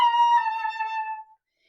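A single sustained flute tone, clear and close, with a bright harmonic stack that fades out after about a second and a quarter; the played line is meant to be a chromatic descent from D down to A in half steps.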